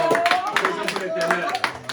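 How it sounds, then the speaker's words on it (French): Church youth convention crowd clapping for the Lord, a dense run of hand claps in quick uneven bursts, with voices singing or talking over it. "Applaudissez pour l'Éternel."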